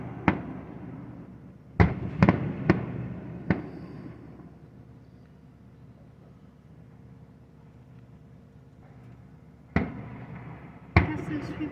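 Fireworks going off outdoors at an evening show in Steelville, Missouri, sharp booming bursts in a quick cluster, then a lull and two more blasts, with faint crowd ambience between them.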